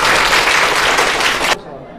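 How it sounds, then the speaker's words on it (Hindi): A classroom group at a coaching centre claps for a student: dense, close applause for about a second and a half, then it cuts off abruptly. "बच्चे के लिए तालियां"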